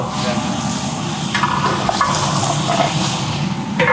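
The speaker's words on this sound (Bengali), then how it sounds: "আলুটাও টমেটোর সাথে ভাজা নিলাম" Potatoes and tomatoes fry in a pan for a rui fish curry: steady sizzling, a continuous hiss with occasional stirring scrapes, close and fairly loud, no talking.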